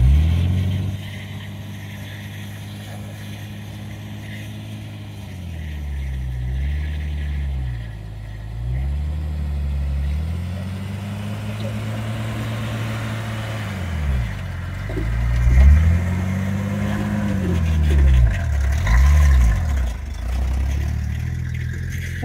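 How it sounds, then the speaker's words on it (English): Jeep Comanche engine idling roughly with an uneven, surging low rumble that rises and dips in waves, loudest and most unsteady toward the end; no talk. "There's something wrong with the idle on the Jeep that we're gonna have to fix."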